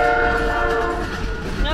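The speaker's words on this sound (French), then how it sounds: "Ah ouais, c'est un mini-train." A freight train horn blares with steady sustained tones over the rumble of passing rail cars, loud and close throughout, in the US Midwest.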